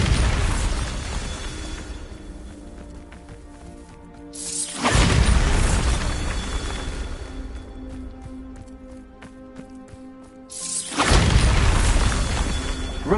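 Bombarda blasting spell going off in the Hogwarts Legacy video game: two loud booming bursts roughly six seconds apart, each a broad crashing impact, over a steady bed of game ambience and mechanical rumble.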